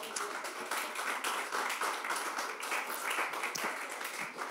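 Audience applause at a comedy club launch, a dense steady wash of many hands clapping throughout, fairly loud and continuous with no pause.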